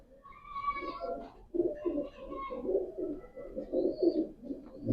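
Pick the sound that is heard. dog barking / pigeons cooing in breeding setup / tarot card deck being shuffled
pigeons cooing in breeding setup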